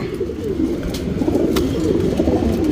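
Pigeons coo in low, rolling murmurs, several birds close by overlapping continuously, with a faint chirp now and then.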